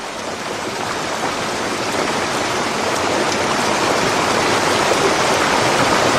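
A loud, steady roar of a flood torrent of water and mud, about 4 metres high, pouring past, continuous and unbroken with no voices.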